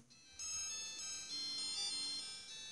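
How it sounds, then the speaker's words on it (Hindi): A small electronic ringtone from a W26 smartwatch, the second alarm tone, plays a bright repeating melody of high tonal beeps, fairly quiet and close, with no talking. "second ringtone"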